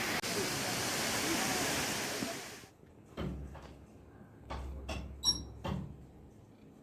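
Amitabh Bachchan Falls, a tall waterfall in Sikkim, gives a loud, steady broadband roar for about two and a half seconds, then drops away, leaving a quieter background with a few soft bumps and knocks.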